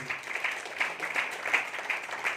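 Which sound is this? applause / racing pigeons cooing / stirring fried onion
applause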